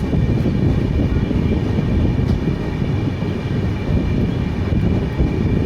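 The Shiv Ganga Express, Banaras to New Delhi, hauled by a WAP7 electric locomotive, rumbles past in a steady, loud, continuous roar of wheels and rails with some wind buffeting.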